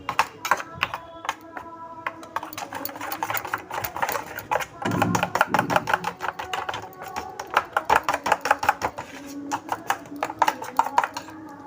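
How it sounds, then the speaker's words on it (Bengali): Hilsa fish pieces being mixed by hand with spices and dried chilli make dense, rapid wet clicking and squelching, close and fairly loud, in a steady run for the whole stretch. "মিক্স করে নিচ্ছি পুরোটা"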